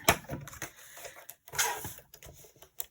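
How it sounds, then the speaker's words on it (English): Paper card stock being trimmed with a paper trimmer: sharp, close slicing and clicking bursts in an irregular rhythm, with brief pauses between cuts and no voices. "I'm going to trim the card down"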